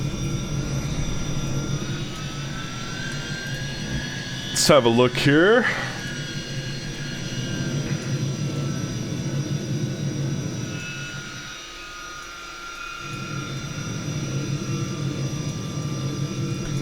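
A Tupolev 154 landing in X-Plane 11, its jet engines a steady, continuous roar with a brief louder whine midway, running under a voice talking throughout.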